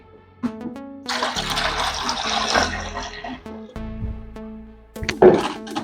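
Water pours and splashes steadily into a container for mixing tile adhesive, for several seconds, with a few clinks and knocks before and after; no voices.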